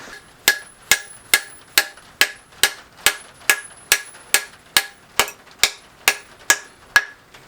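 Steady hammer blows driving a wedge into an axe handle resting on a piece of timber, about fifteen sharp, evenly spaced strikes ringing out loud and close with no talk.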